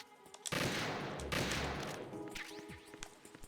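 Gunfire in Metal Gear Solid 2: Substance, a loud sustained burst of rapid shots as the gun's ammo is emptied, followed by trailing clatter and a few sparse, quieter clicks.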